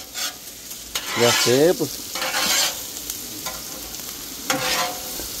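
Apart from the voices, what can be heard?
hamburger patty sizzling and frying in a hot pan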